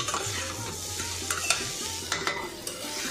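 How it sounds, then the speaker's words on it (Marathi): Cooked rice being stirred into a hot pan of seasoning for lemon, tamarind or raw mango rice, soft sizzling under a spoon scraping and tossing, with several sharp metallic knocks against the pan. "भात टाकायचा आहे याच्यावरती आणि याला एक गुड स्टर द्यायचा आहे."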